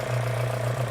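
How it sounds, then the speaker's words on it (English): A classic car's engine idles steadily once warm, with a low, even drone and a constant hum above it, close and fairly loud, with no talk. "So it's idling as it should."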